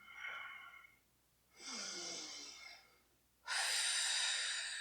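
A deep breath during a yoga flow: three broad, breathy sounds, each louder and longer than the last, close and clear with no talking.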